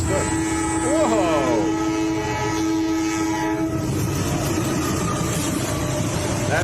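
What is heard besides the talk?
train passing with horn, in a video being reacted to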